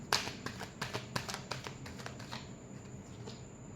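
Tarot cards being shuffled by hand in a quiet room, giving a run of soft riffling taps and flicks, busiest in the first couple of seconds and thinning toward the end.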